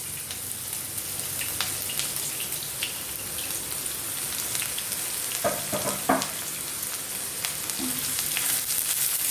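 Onions and green chilies with mustard seeds sizzle in a pan, a continuous close frying hiss dotted with small pops and a few spatula scrapes.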